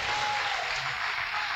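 A church congregation applauds in worship after a prayer, a dense, hissing wash of many hands clapping steadily and evenly throughout, slightly distant and reverberant.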